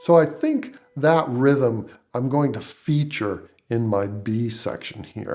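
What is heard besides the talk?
None of the usual background noises is heard.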